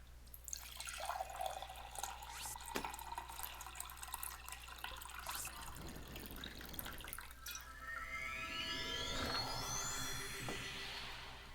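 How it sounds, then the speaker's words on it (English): Water pours from a tap or jug into a glass, starting with scattered drips and a light trickle, then a steady stream whose pitch rises as the glass fills, close and fairly quiet. "I need to pour myself some more water"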